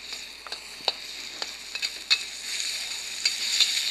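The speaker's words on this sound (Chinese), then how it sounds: "然后呢就把这个生的这个鸡肉给它先下锅来炒熟" Raw chicken sizzles in a wok with scallion and ginger, a bright steady frying hiss broken by scattered crisp pops and spatula scrapes, close and continuous, without talk.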